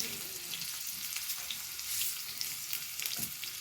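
Fenugreek and mustard seeds frying in hot oil make a steady, close sizzle with faint pops and crackles scattered throughout, loud and unbroken by talk.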